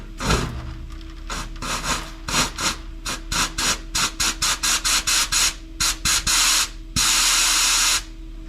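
Carb cleaner is sprayed and blown through the carburetor of a 1969 Charger, giving a run of short hissing bursts that ends in one longer, louder blast, close by and without talk.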